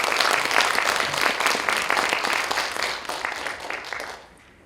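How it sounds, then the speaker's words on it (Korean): Loud, steady applause from an audience at a literary festival lecture, a dense wash of clapping that tapers off and fades in the final second. "다시 한번 힘찬 박수 부탁드리겠습니다"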